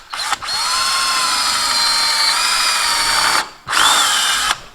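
A power drill boring a hole near a Pontiac GTO suspension bolt whines loudly and steadily for about three seconds, stops briefly, then spins up again for a second short run.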